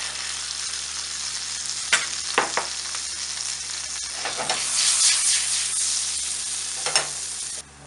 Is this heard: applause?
no